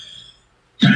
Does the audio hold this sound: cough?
yes